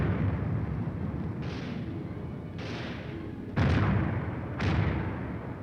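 A 4.2-inch mortar platoon fires in sequence, four heavy booms landing a second or so apart, each rolling out into a long rumbling decay over a continuous low roar.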